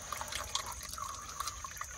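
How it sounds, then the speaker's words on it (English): Oil dripping out of the filter of a flood-damaged Cadillac DTS convertible, a quiet irregular patter of small drips and trickles, close and faint with no talk. "it looks like it's just oil coming out of the filter"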